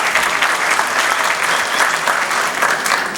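An audience at a British education speech event bursts into loud, sustained applause, a dense, even clapping from a large crowd that runs unbroken throughout.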